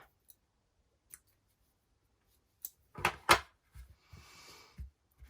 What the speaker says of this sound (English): we're going to cut that end off